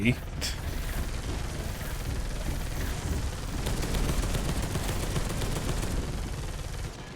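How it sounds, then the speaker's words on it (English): Bolter gunfire from the video game Space Hulk: Deathwing, a steady stream of rapid automatic shots over heavy background noise, with a person talking over it. "Heavy stubber detected. So, bolter guns."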